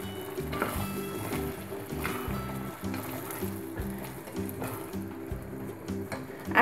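Boiled chickpeas for chola bhuna being stirred in a pan with spices and curry powder, a steady low sizzle with faint scraping and stirring clatter, close and continuous, no voices.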